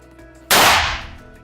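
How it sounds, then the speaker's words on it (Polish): A single sharp small-caliber pistol shot into a ballistic vest cracks out loudly after a moment of quiet, followed by a brief decaying ring. "Strzał wykonywany z broni małokalibrowej, takiej jak pistolet Parabellum, TT lub Magnum."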